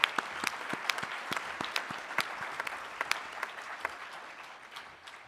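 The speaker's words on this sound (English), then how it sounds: "How about applause for all those answers?" An audience applauds answers given by an opening panel, a moderate, even spread of clapping with distinct individual claps popping out, gradually thinning toward the end.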